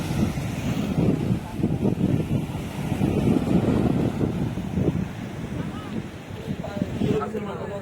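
Strong high-tide sea waves at Digha beach roar as a continuous rumbling wash with heavy wind buffeting the microphone, loud and close throughout.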